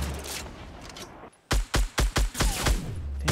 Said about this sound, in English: Dang sniper rifles.